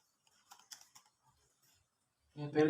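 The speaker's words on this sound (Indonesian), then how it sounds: "Di sini kita akan mengetik TP-Link" Soft, sparse keystrokes tap on a computer keyboard, a handful of light clicks spread over a couple of seconds, quiet and close, before a voice begins speaking.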